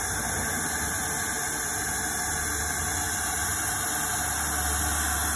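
A large vortex fog chiller blasts fog with a loud, continuous hissing rush of air and machine drone, steady throughout with no talk.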